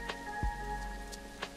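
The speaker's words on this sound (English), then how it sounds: "it's just started to rain" Rain falls in the zoo-building video game Planet Zoo, a soft, steady patter with a few faint drop ticks and a low thud, quiet and continuous with no talk.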